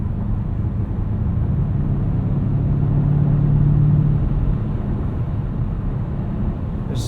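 Low, steady tire and road rumble from inside a 2020 BMW Alpina B7 xDrive cruising at night, a smooth constant drone with a faint tonal hum in the middle, no voices.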